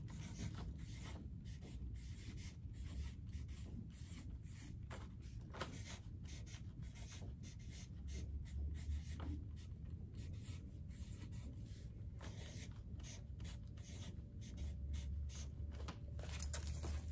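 A pencil or pen scratches across paper in short, quiet strokes with brief pauses, faint and close in an otherwise quiet room.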